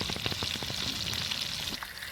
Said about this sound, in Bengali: মাছগুলো একবার ভেজে নেবো।